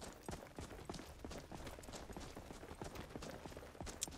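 Horse hooves clip-clopping at a steady, even trot in Skyrim, faint and fairly distant, with light background mechanisms and no talk.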